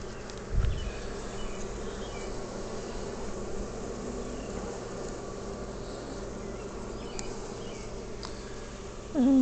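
Constant droning buzz of many bees around a top bar hive, steady and close, with a brief low thump near the start and no speech.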